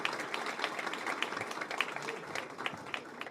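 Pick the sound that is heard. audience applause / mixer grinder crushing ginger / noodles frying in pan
audience applause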